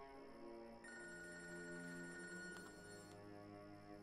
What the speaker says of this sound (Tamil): ஆர்த்தி தான் கால் பண்ணிருக்கா